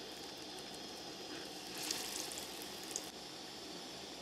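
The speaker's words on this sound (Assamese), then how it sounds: "প্ৰথমে আমি বৰাকেইটা ভাজি ল'ম।" Lentil fritters (dal vada) fry in hot oil in a kadai, giving a steady, fairly quiet crackling sizzle with a few brighter pops partway through and no voices.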